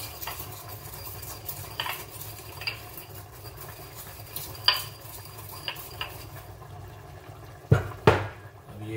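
Frozen chicken gravy ingredients are pounded and mashed in a mortar, giving scattered knocks and scraping taps with a couple of sharper, louder strikes near the end.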